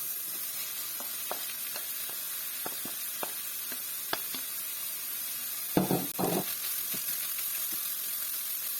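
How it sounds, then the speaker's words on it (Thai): Pork stir-fries in a wok as pounded young green jackfruit is added, in a northern Thai jackfruit and curry paste dish; a faint steady sizzle comes with scattered clicks of the utensil, then a brief louder burst of frying as the jackfruit goes in. "พอหมูของเราเริ่มสุกแล้วนะคะ เราก็จะใส่ ขนุนที่เราโขลกไว้เมื่อกี้ค่ะ ลงไปค่ะ"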